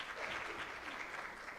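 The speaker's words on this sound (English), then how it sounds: "Can we give them another hand clap?" Audience applause at a maternal mental health summit, a steady dense wash of clapping from a crowd that stays loud and even for its whole length, with no talking over it.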